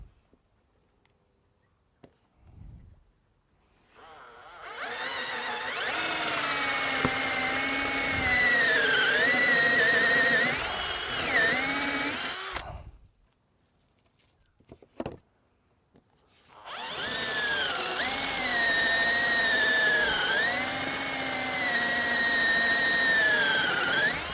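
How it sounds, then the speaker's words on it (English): A power drill whirs loudly in two long bursts, boring holes in the wooden sides of a wine caddy, its pitch dipping as it bites in, with short quiet pauses and a brief click between. "we're going to drill a neat hole in the top of our sides"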